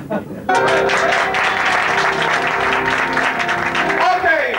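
Audience at a French stand-up comedy show in Paris applauding loudly and steadily after a short quiet lead-in, with cheering voices mixed in and a tonal musical line running under the clapping.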